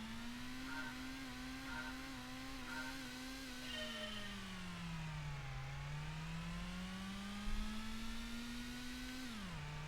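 A Honda Prelude engine in the PlayStation racing game Gran Turismo revs hard and steadily, its pitch climbing, dipping sharply at a gear change near the middle, then climbing again before another drop at the end, alone with no talk.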